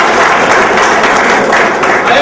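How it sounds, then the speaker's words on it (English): Seminar audience at an engineering institute applauding a student, a dense, loud, continuous wash of many hands clapping at once, steady for the full stretch. "Give him a good word of applause"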